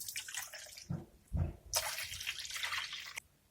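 Two cups of warm milk poured into a kneading bowl for pizza poğaça dough, a soft splashing, trickling pour that swells and runs steadily for a few seconds before stopping, close and fairly quiet.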